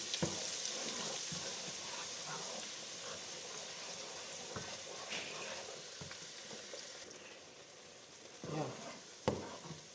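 Chopped onions fry gently for a Nigerian-style beef and fish stew, a faint, even sizzle with occasional soft knocks of stirring and a brief watery splash near the end.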